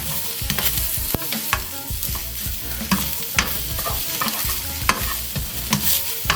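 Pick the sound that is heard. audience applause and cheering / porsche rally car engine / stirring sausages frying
stirring sausages frying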